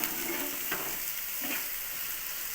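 Masala paste stirred into chicken curry frying in a Guntur-style pan: a steady close sizzle with a couple of soft scraping stirs, no voices.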